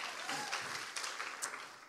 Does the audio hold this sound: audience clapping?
yes